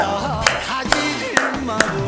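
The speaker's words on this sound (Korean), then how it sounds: "박수 네 번" Four sharp hand claps, evenly spaced, during a seated cognitive-exercise class, each crisp and close, with an instructor's voice talking continuously between them.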